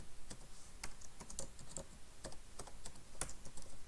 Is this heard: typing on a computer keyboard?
yes